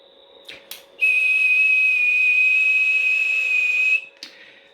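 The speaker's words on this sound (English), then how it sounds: "I'm not really good at whistling." A person whistles one steady, unwavering tone for about three seconds, loud and close, with short clicks and a low background hum before and after it, while testing a radio's power on a wattmeter.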